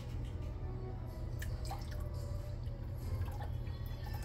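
Lemon juice is poured over chicken and potatoes in a home kitchen, heard as faint scattered drips and small liquid splashes over a steady low background hum.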